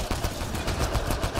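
Rapid bursts of gunfire from Mass Effect Andromeda crackle in quick succession, loud and close, with no talking over them.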